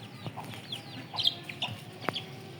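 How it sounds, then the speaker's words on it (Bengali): Young chickens on a farm chirping and clucking softly in short, scattered calls, with one sharper knock-like sound. The sound is fairly faint and close, with no talking. "এদিকে আমার মুরগি বাচ্চাগুলো এই যে"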